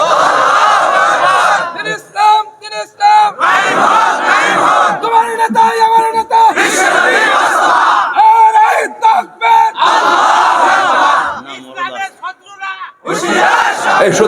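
A large crowd at an outdoor Islamic waz sermon gathering chants a slogan in loud, repeated bursts of massed voices, with short pauses and a few brief quieter gaps between the shouted phrases.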